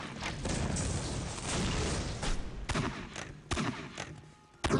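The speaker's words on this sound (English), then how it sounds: "Grenade launcher weapon is really fun. The way it just slings grenades so perfectly." Grenade launcher in Postal 2 firing grenades, heard as a dense run of loud booming blasts and crashes with a few sharper separate bangs near the end, no talk.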